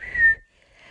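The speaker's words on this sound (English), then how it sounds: "and he'd whistle" A person whistles a short, clear high tone that fades quickly into near silence, with a faint low rumble beneath it.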